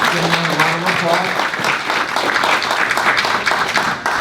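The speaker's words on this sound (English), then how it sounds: "let's give our presentation a round of applause" Audience applause rings out after a talk on fentanyl, a dense wash of clapping that fills the room steadily, with a voice overlapping at the start before the clapping takes over.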